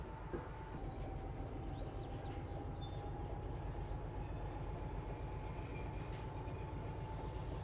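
A locomotive train in the Derail Valley video game runs with a continuous, loud low-pitched rumble and a steady mechanical drone, with faint rhythmic clatter and a few light high squeaks, and no voices.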